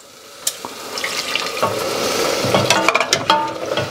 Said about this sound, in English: Now we're going to add some more stock.